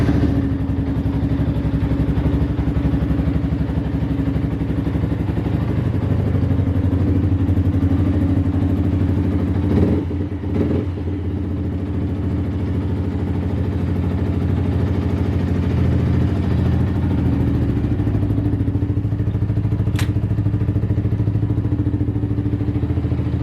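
Yamaha YZF R125 motorcycle engine idling steadily indoors, a close, continuous low putter with a brief louder blip around the middle and no talk.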